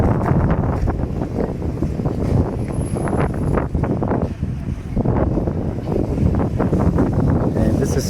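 Strong wind buffets a microphone outdoors by a Sam's Club in Plano, Texas, a constant loud rumbling roar with gusting swells and no clear speech.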